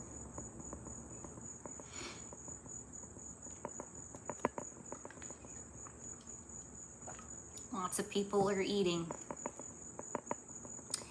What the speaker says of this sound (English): we got crickets already